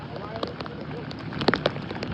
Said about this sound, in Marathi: आज कालच्यापेक्षा पाऊस जास्तच आहे.